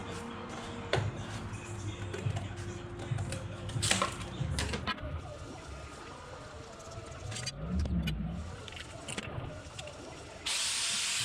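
Hissing, crackling bursts from welding gussets onto a car chassis in a fabrication shop, irregular and close, with clanks and a louder steady hiss near the end.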